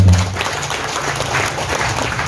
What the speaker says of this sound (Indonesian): Tepuk tangan dulu pertama.